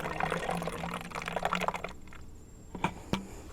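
A honey and water mixture is poured into a container at a campsite, giving a quiet splashing trickle that fades and ends with a couple of light knocks.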